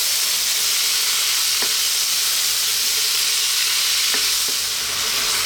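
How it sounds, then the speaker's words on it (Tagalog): Onion and tomato sauté in a pan for an ampalaya with corned beef dish, giving a continuous bright sizzle with a couple of faint utensil taps against the pan. "Maglalagay tayo ng onion at ang ating tomato. So isusutin natin siya ng mga 2 minutes."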